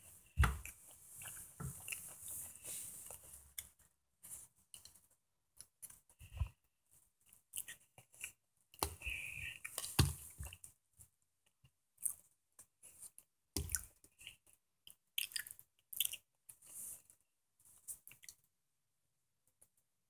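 Someone eats Kinder Joy chocolate close up, with soft crinkly clicks, squishy chewing and small wet bites scattered across a quiet stretch, some moments louder and others near silence, with no talk.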